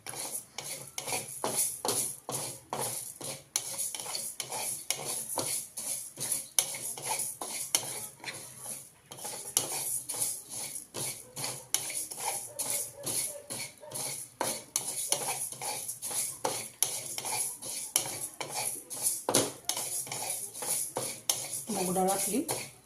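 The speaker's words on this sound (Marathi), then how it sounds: "मूग डाळ पण आपण खमंग भाजून घ्यायचे." Moong dal dry-roasting in a pan while a spoon stirs it, giving a dense, steady run of scraping and clinking strokes against the metal that continues without pause for the whole stretch.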